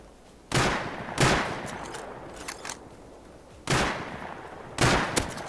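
Bursts of gunfire in the survival game Rust, four sharp volleys spaced a second or two apart with a couple of lighter pops between, loud over a quiet background.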